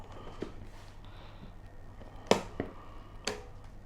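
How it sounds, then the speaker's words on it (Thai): A few sharp, faint clicks spaced irregularly over a quiet background, a relay snapping on nearby in a power box. "นี่เสียงรีเลย์ทำงาน"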